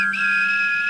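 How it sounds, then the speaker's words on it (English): A train guard's whistle in the Trainz railway simulator: one steady, shrill, sustained blast, loud and close, holding level for the whole second with no other sounds. "The guard blew his whistle."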